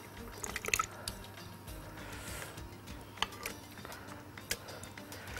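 Mango pieces drop one by one into a blender jar of mango juice for a strawberry mango milkshake, giving faint, scattered wet plops and drips over a low room hum.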